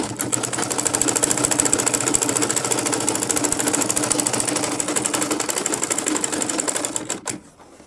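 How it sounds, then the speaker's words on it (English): A sewing machine runs steadily and fast, its needle clattering in a dense rhythm for several seconds before stopping abruptly. "So I'll be taking it to my sewing machine. I'll sew from this end to the other end of the fabric."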